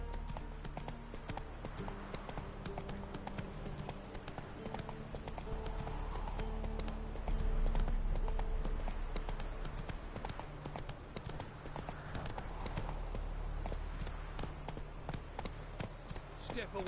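Roach, Geralt's horse in The Witcher video game, gallops with a steady, close, rhythmic clip-clop of hooves that runs the whole way through over a low bed of game ambience and music.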